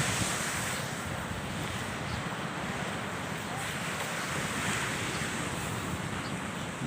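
Sea waves roll onto a beach in the Philippines in a continuous, close wash of surf, with wind buffeting the microphone throughout and no speech.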